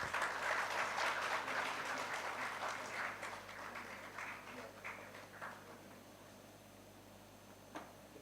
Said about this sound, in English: A huge round of applause for this.